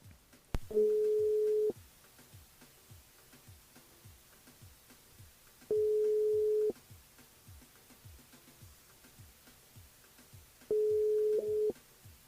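Three evenly spaced tones sound on a telephone line while a radio host calls a listener, each lasting about a second, over a faint steady ticking.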